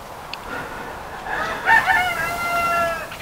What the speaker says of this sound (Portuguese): E o galo está tão esperto.